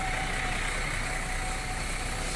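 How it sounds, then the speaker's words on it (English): Steady engine drone of a bus running on a replacement service for the Midland railway line, a continuous mid-low hum with no breaks and no speech over it. "hear that engine noise yet again"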